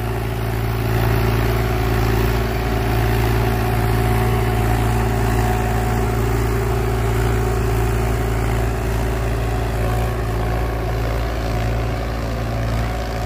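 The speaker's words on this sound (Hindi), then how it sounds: "कमाल कर दी भाई ट्रैक्टर ने" Indo Farm 3048 tractor pulling a fully opened harrow through a wet field, its engine droning steadily and loudly for the whole stretch with a constant low hum and no speech.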